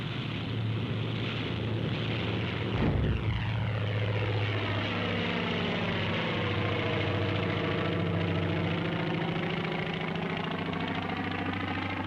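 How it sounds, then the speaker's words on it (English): Navy carrier aircraft take off from a flight deck in the Central Pacific in 1944, with a continuous propeller-engine drone that stays loud throughout and rises and falls as the planes pass. "Aircraft leave the flight decks during extensive attacks that softened up the Central Pacific targets for amphibious operations."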